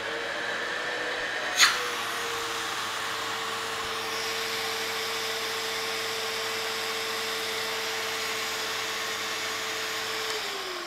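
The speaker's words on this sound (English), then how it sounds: "We're gonna test the working vacuum." A Sanitaire Force SC5745 bagless commercial upright vacuum runs steadily after a sharp click, holding a loud, even motor whine with a constant airy roar for about ten seconds, no talking.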